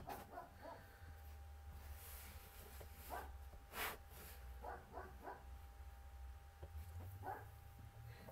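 Puppies barking and yipping indoors in short scattered bursts, fairly faint and a little distant, over a quiet background hum.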